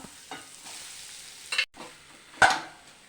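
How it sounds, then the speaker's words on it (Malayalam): Green gram dropped into hot ghee in a pan: a quiet low sizzle broken by two sharp scraping, rattling bursts of stirring, close by and with no voices. "നെയ്യ് ഒഴിച്ചിട്ടുണ്ട് നമുക്കിതിലോട്ട് പയറിട്ട് കൊടുക്കാം"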